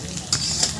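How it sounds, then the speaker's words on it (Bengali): Onions and chilies sizzle in hot oil as they fry for a poultry chicken curry, a close, steady hiss with brief crackling bursts from stirring. "ভাজা হচ্ছে।"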